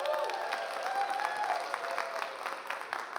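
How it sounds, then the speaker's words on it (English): An audience at a live stream event claps in steady, dense applause, a moderately distant wash of many hands with no talking. "Again, a round of applause."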